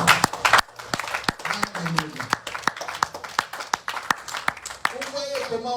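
A church congregation claps and applauds in acclamation, with steady rhythmic claps running throughout, close and lively, while voices speak and call out over them.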